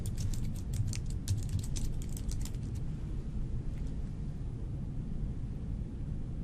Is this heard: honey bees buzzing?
no